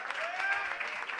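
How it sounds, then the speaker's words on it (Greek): Audience applause at a live beatbox event in Athens, a soft, steady patter of clapping heard from some distance, brief and unbroken. "Ένα χειροκρότημα παρακαλώ, Εβάνα."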